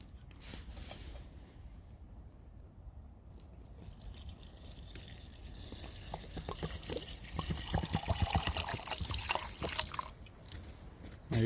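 Water is poured into a Stanley Adventure Cup outdoors in wet, rainy conditions. It starts as a faint trickle, then grows into a louder, fuller stream of filling liquid. No one speaks.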